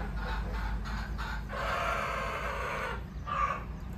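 Sonali chickens on a country poultry farm, clucking in short bursts with a crow-like call near the end, heard close over steady low background noise.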